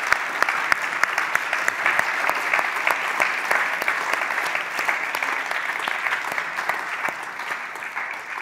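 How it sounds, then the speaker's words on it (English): An audience at a literature festival lecture applauds after a poem reading, a steady, dense burst of clapping that holds evenly for several seconds and tapers slightly toward the end. "I think that deserves a round of applause."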